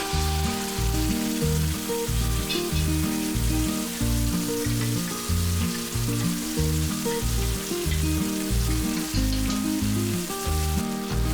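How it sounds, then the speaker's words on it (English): Onion paste fries in a pan, making a continuous bright sizzle while rhythmic background music plays steadily underneath. "Then add the onion paste which was previously made."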